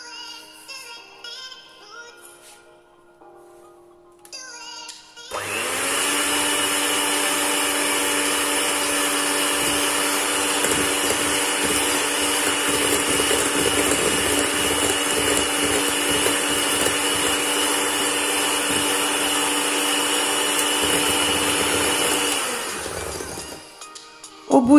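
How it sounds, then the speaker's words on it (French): Electric hand mixer beating eggs and sugar for a chocolate pear cake, a loud steady whirring drone that starts after a quiet few seconds, runs for about eighteen seconds and then shuts off. "Je commence par travailler au batteur électrique pendant 2 minutes, donc les œufs et le sucre."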